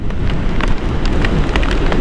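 Rain pelting down on a rider during a motorbike trip, a loud, dense and continuous hiss of drops mixed with rushing wind noise for the whole stretch, no talking.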